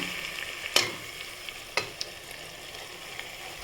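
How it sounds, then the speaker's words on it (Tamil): Prawns sautéed for prawn biryani in a cooker produce a close, steady sizzle, broken by a few sharp clicks of a spoon against the metal. "இறாலை சேர்த்து நல்லா வதக்கிக்கோங்க"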